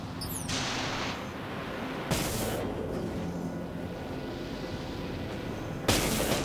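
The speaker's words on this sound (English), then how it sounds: "Our weapons are locked on. Aye, launch torpedoes." Torpedo launches from a warship in the video game Dreadnought: several loud broadband whooshing bursts, one at the start, one near the middle and one at the end, over a steady low battle rumble.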